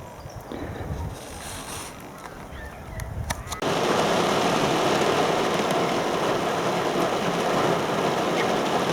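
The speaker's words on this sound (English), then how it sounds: "a quick dash through the rain back to the ute" Heavy rain pours down steadily in the Australian outback during a thunderstorm, starting as a light patter before a sudden loud downpour sets in around a ute, a dense continuous roar with no talking.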